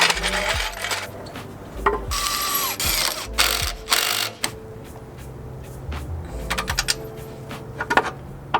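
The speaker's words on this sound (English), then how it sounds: "Don't recommend using a torque wrench to loosen bolts" A torque wrench loosens bolts on a Nissan S13 being built as a drift car, with repeated bursts of ratcheting clicks and metallic clatter close by and no speech.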